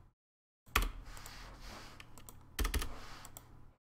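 Code is typed on a computer keyboard in two quick bursts of close, crisp key clicks separated by a brief pause, with no voice over them.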